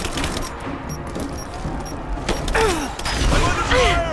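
Gunfire in the game Rise of the Tomb Raider, a fast volley of sharp shots and mechanical clatter mixed with whistling, swooping effects and battlefield noise, all close and busy.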